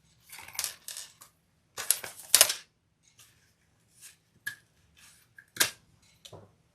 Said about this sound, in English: we will trim off our zipper tape